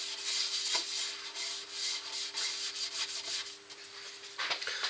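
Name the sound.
rubbing acrylic sanding sealer onto wood on a lathe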